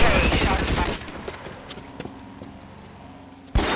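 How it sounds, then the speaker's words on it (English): Gunfire in the police video game L.A. Noire, with a burst of shots at the start, then scattered single cracks and a loud final shot near the end over a steady background. "Bullets start flying."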